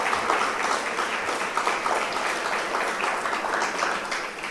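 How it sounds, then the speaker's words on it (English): A crowd's round of applause at a children's sports program event, steady broadband clapping from many hands at moderate level, continuing throughout without a break. "Give yourself a round of applause,"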